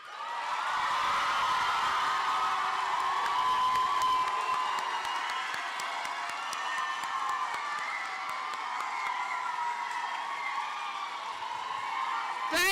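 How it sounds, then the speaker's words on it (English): An audience at an East Bladen High School graduation applauds the graduates, sustained clapping with cheers and whoops from a large crowd, steady and loud for over twelve seconds before tapering slightly. "give our graduates a round of applause"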